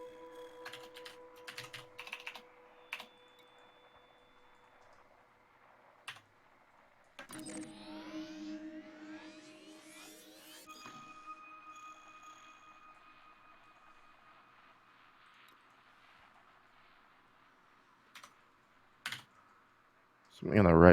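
Fast clicks from a faulty computer keyboard come in short bursts with pauses between them, joined by stray tones and quiet background sounds.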